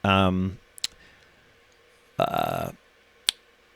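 A computer mouse clicks twice while a fence is drawn in SketchUp design software, each click sharp and isolated between brief bursts of a voice.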